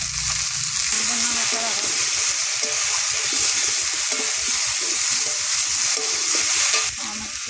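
Onions salted in a hot pan fry with a loud, continuous sizzle, with brisk stirring scrapes and faint clinks running through it, close and alone.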